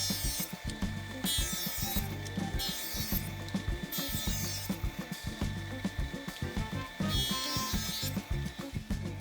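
Sawing strips from a Damascus steel billet for axe heads, cutting at 1½ inches thick; a steady, close rasping saw stroke repeats in an even rhythm throughout, with no talk.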